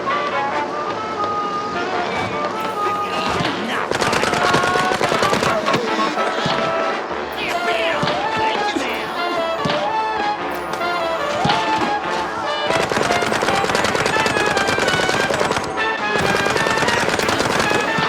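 Gunfire rattles in Mouse P.I. for Hire, with dense repeated bursts and sharp cracks coming in loud clusters over a busy action background.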